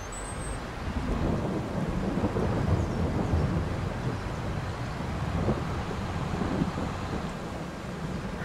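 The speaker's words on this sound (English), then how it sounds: "looks like the rain's clearing up." Rain and thunder in Farming Simulator 22 make a steady, dense outdoor roar with low rumbling and wind. The sound holds at an even loudness throughout.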